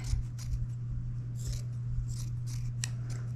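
Scissors snip down the side of a piece of material in a series of quick, close, crisp cuts over a steady low hum, with no talk.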